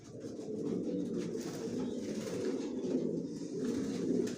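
Janssen racing pigeons in a home loft give soft, low cooing calls, repeated in a continuous murmuring rumble close by with no talk.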